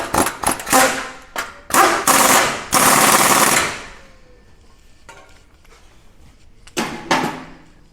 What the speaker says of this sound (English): I'm going to snug it just a little bit with my impact